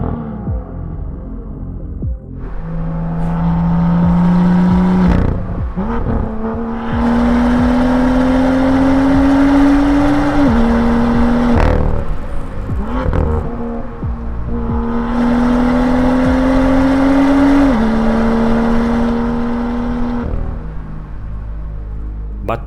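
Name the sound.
BMW M2 straight pipe exhaust revving loudly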